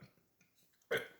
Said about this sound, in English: Sorry about that. I had to burp.